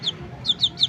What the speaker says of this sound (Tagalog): Sila yung huling sisiw.